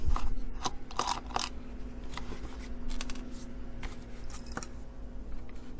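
Screws being removed from an audio amplifier casing, heard as metallic clicks and rattles up close. The small scraping and clinking sounds are irregular and moderately loud, with no speech.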